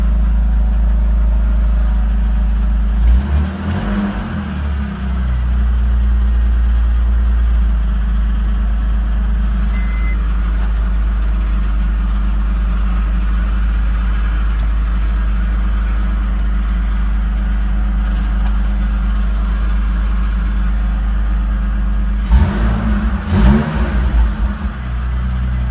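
A BMW E46 Touring with a 3-liter engine, swapped in with a manual conversion, cranks and fires up, with bursts at the start and near the end and a steady, loud idle rumbling between them.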